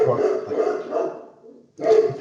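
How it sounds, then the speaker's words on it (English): Several dogs bark close by, sounding loud in a short burst of overlapping barks, then a brief pause and a few more barks. "I'm gonna go stop those dogs"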